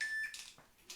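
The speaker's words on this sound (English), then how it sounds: "Turn on the timer so I can hear it." A timer gives a single faint, high electronic beep at the start, followed by quiet, brief rustling in an otherwise hushed room.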